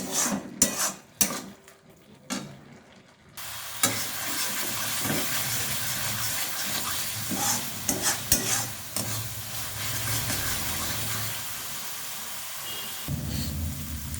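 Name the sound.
stirring and sautéing masala in a pan for fish curry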